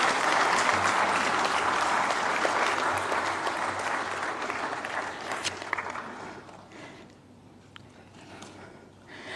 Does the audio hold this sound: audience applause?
yes